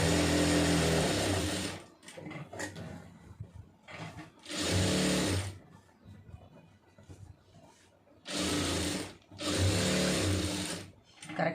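A sewing machine stitches fabric in four close, steady whirring runs of one to two seconds each, with quieter pauses between them where a voice talks softly.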